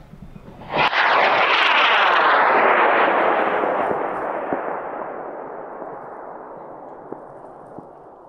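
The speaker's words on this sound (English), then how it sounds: "we're launching K450 Research Motor in 5, 4, 3, 2," A high-power rocket launch on a K450 research motor, 54 mm and 90 inches tall: a sharp ignition crack bursts into a loud roaring rush that slowly fades as the rocket climbs away, with no voices.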